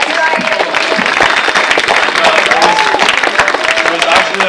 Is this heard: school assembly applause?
yes